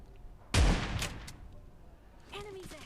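A single loud, close shotgun blast in PUBG Mobile, a sharp broadband burst that decays over about half a second, followed later by quieter rustling and a faint voice.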